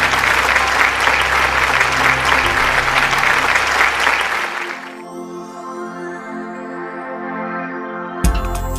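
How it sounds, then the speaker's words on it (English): An audience at a skincare Q&A session applauds a doctor for several seconds, a full steady round of clapping that fades out into a quiet room tone. "please join me in thanking him with a round of applause for being here today"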